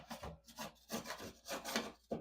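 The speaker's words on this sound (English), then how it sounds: "cleaning up this excess caulk over here. I've got a sharpened putty knife." A sharpened putty knife scrapes loose old caulk from a bathroom surface in short, rough strokes, about five or six rasping passes in an uneven rhythm, close and clear with no talking.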